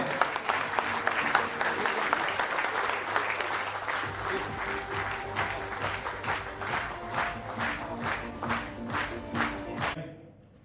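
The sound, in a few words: loud applause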